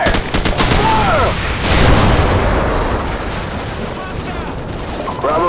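A squad opens fire on a target in Call of Duty 4 on PC, a loud sustained barrage of overlapping rifle and machine-gun bursts with explosive booms, under shouted battlefield voices.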